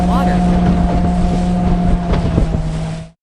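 A motorboat runs at speed on the water, its loud, near engine whine holding a steady pitch over wind buffeting and splashing before cutting off abruptly.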